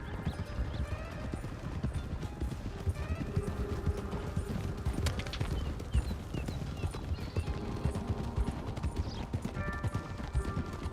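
Horses trotting in Red Dead Redemption 2, a continuous clip-clop of several sets of hooves on a dirt road with an occasional whinny, steady and fairly close.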